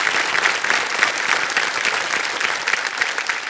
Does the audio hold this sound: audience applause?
yes